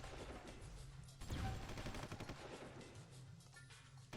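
Battlefield weapons fire in the strategy game Supreme Ruler Ultimate, with artillery close by: a dense, fairly quiet stream of rapid shots and bursts, with a heavier crashing blast partway through.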